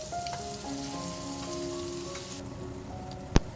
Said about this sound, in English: Saute the lemon slices for about 30 seconds per side, just until they become lightly caramelized